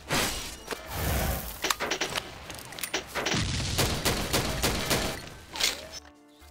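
Rapid bursts of gunfire from the XSHOT shooting game, dense overlapping shots and impacts loud and close throughout, cutting off abruptly near the end.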